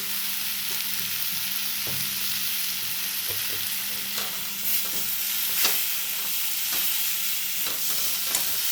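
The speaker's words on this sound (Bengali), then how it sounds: "শাকটাকে পুরো শাক ভাজার মতো করে দিতে হবে" Drumstick leaves fry in a pan with turmeric, giving a loud, continuous sizzle broken by regular stirring clicks and scrapes, close up and without speech.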